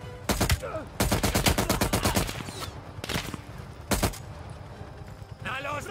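Automatic gunfire in Call of Duty Black Ops Cold War comes in several loud bursts of rapid shots separated by short pauses, with brief in-game voices between volleys.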